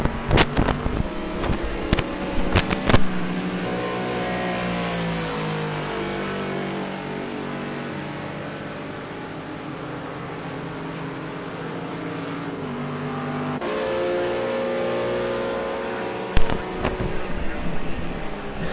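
Bentley and McLaren GT3 race cars from a racing video game roar steadily at Algarve, with engine notes rising and falling through gear changes and sharp bangs near the start and end, under commentary.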